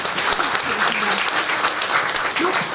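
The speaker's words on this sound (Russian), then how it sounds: "аплодисменты" An audience applauds to welcome a lecturer before a talk on Pushkin's Petersburg years, steady clapping filling the room for a few seconds, with a faint voice briefly audible underneath.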